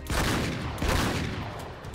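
Shotgun blasts boom through a firefight in the game Uncharted 3: Drake's Deception, a loud, dense burst of overlapping shots and rumbling impacts lasting about two seconds.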